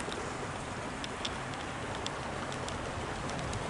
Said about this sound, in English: it's a cold, rainy day out here